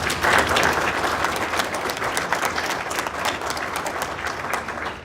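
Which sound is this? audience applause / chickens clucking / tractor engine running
audience applause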